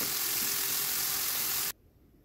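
Half a kilo of minced meat fries in a spoonful of ghee in a pan, a loud, dense, even sizzle that stops abruptly, leaving near silence.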